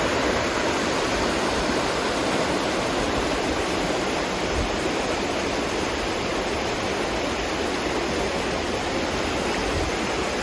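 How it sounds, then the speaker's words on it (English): White-water river rapids in central Florida make a steady, loud, broadband rush of churning water, continuous and close with no voices. "you know how much we appreciate seeing a little bit of white water"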